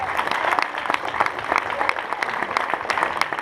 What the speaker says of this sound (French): On peut vous applaudir aussi.